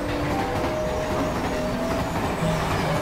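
In a horror video game set aboard a train, a passing train rushes steadily by with continuous rumbling rail noise and faint high squealing tones, sustained and fairly loud with no talking.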